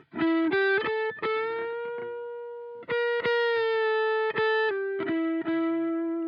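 An electric guitar picked lightly through a Behringer Vintage Tube Overdrive pedal rings out in short separate notes and chords with a mostly clean, slightly gritty tone, each note sustaining and fading before the next, with no voices.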